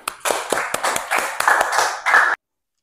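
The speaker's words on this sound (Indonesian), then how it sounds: "Tepuk tangan untuk Jefflin." A classroom of students claps for a classmate in a short burst of close, uneven hand claps lasting about two seconds before stopping abruptly.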